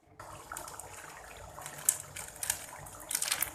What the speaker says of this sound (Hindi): पानी और डाल लेंगे थोड़ा सा ताकि अच्छे से गल जाए गोश्त हमारा।